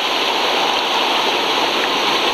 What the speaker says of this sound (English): One last look at Coker Creek. It's still cranking pretty fast.